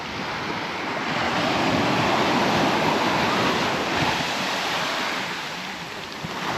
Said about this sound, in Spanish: Vamos a ver el mar.